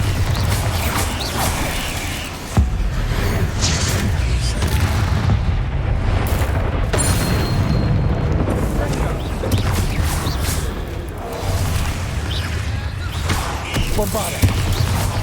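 A Bombarda blasting spell goes off in the video game Hogwarts Legacy, giving deep, rumbling explosive booms amid steady mechanical creaks and continuous game noise, with a voice speaking over it.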